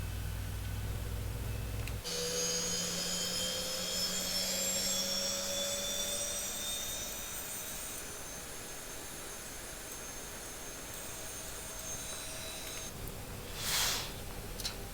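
A simulated Boeing 737-800 engine number 2 spools up in X-Plane, a loud steady jet whine and roar with rising tones that settles into a continuous hum.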